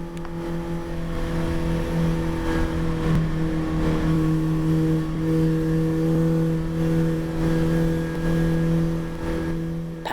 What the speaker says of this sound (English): just accelerating is causing wheel spin, and we're topping out at barely 60 miles an hour here